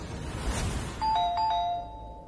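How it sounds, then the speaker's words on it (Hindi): A doorbell chimes repeatedly, clear ding-dong tones ringing out twice in quick succession after a muffled rustle, fairly loud and close in a home. "कौन इतनी जोर से बेल बजा रहा है?"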